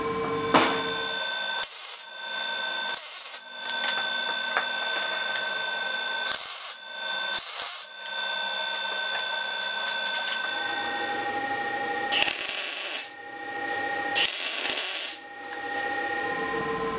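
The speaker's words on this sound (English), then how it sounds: "we're going to take the plunge and start tacking that first bracket in place" Steel bracket being tack welded in place during a Mini Stunter 125 minibike build, heard as about six short, loud crackling bursts spread apart, each separated by quieter shop hum.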